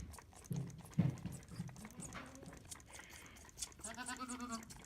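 A young kid goat feeds from a soda bottle filled with milk on a farm, with soft suckling and shuffling noises and a short bleat-like cry near the end.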